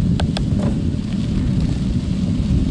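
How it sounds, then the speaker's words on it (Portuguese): Strong wind of about 80 km/h with torrential rain while cycling, a constant heavy low roar of wind buffeting the microphone, loud and close, with a few faint sharp taps early on. "Vento 80 km/h. E chuva torrencial."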